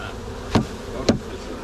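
Honey bees buzz at an open hive as frames are being pulled to harvest honey, a close, steady drone with two short knocks or bumps.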